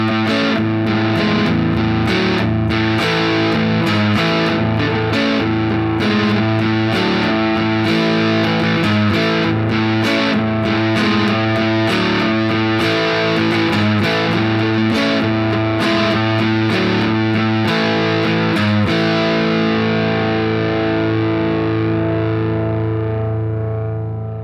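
Distorted electric guitar playing the opening riff of a song, a fast, steady chugging riff heard loud and alone for about twenty seconds before the final chord rings out and fades.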